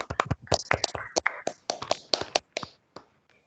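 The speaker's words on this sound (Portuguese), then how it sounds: "Então, uma salva de palmas para a Eliane." Brief scattered handclaps from a small group of people after a student's thesis defense, a few close, uneven claps fading out within a few seconds, mixed with a little talk.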